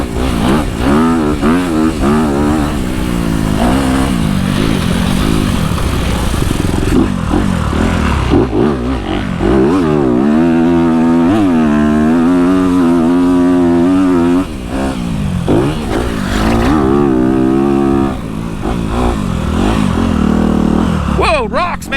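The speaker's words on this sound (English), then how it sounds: "So both these bikes are pretty loud." Motocross dirt bikes on a track rev and ride, their loud engines rising and falling in pitch throughout, close and continuous.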